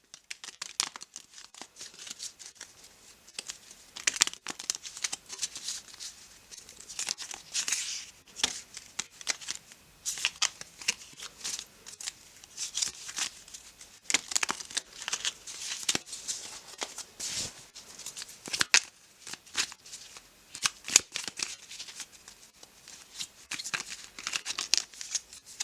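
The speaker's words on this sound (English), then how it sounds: "shuffle them back in" Tarot cards being shuffled, a long run of soft, close riffling and papery slides in irregular bursts, quiet and without talk.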